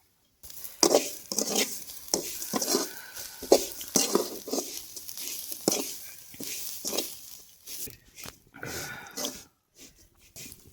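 Grated coconut is stirred with carrot and semolina in a pan for carrot rava laddu, giving soft, irregular scrapes and taps of a spoon against the pan, close and fairly quiet with short pauses between strokes.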